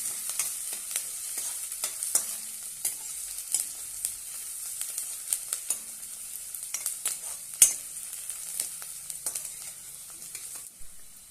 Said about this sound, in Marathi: आता यामध्ये मी तीन हिरव्या मिरच्या बारीक अशा कट केलेल्या आहेत ते घालूया आणि छानपैकी परतून घेऊया